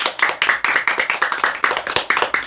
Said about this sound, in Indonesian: beri tepuk tangan untuk kelompok pisang dan kelompok pepaya